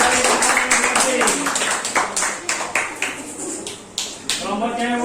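Classroom applause for students comes as a run of quick, sharp claps in a loose rhythm, mixed with voices in the room.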